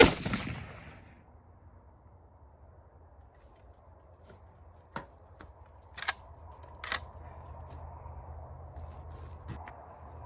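A Savage 99 .308 rifle fires one loud, close shot at the opening that decays quickly, followed by faint outdoor background and a few sharp clicks.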